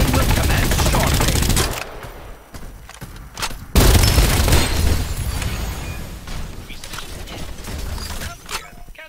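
Loud bursts of gunfire and booming impacts from the video game Farlight 84 hammer close by, heavy volleys at first, then scattered single shots and a big blast, with a voice briefly underneath.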